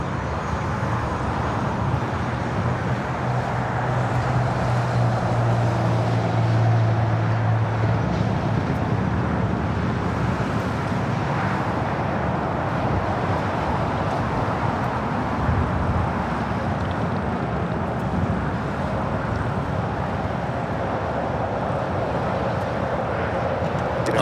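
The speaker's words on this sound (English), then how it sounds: "This is Singapore Airlines 11 taking off to Tokyo Narita on a 777-300ER." Singapore Airlines Boeing 777-300ER taking off from LAX for Tokyo Narita, a distant, steady low jet rumble mixed with wind and background traffic noise, continuous and fairly quiet.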